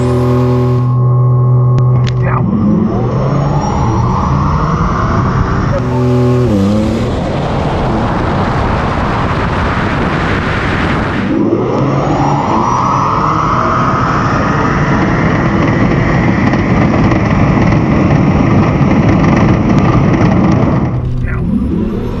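A tuned Porsche 911 Turbo and a Tesla Plaid run a quarter-mile drag race: a loud engine climbs through rising revs with clear gear shifts, drops briefly, then winds up hard again over a steady roar of speed.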